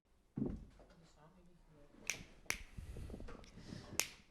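Three or four crisp, close finger snaps ring out sharply amid casual conversation, spaced unevenly over a few seconds.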